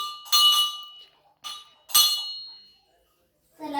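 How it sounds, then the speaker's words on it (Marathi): A temple bell at the old Kashi Vishwanath shrine is struck three times, each clear metallic ring decaying slowly, the last strike loudest, with a voice starting briefly just after. "बघा मी घंटी वाजवते."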